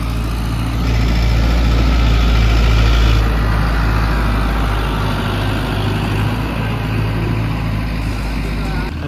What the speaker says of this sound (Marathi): बघा आताची बॉ ट्रॅक्टर